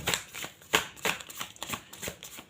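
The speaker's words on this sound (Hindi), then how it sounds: "मैं आपके सामने शफल करती हूँ" Tarot cards shuffled by hand, a series of quick papery riffles and slaps in an uneven rhythm, close and fairly soft.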